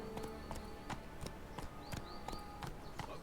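Horse hooves clip-clop at a steady trotting rhythm in The Witcher 3 video game, fairly close, with faint game ambience behind them.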